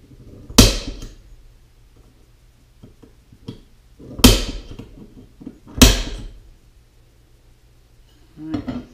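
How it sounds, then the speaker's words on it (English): A spring-actuated center punch strikes metal with three sharp metallic snaps at irregular intervals, marking headlight holes on a Grand Wagoneer, with quiet handling sounds and small taps between them. "I'm going to use a spring actuated center punch to set these holes"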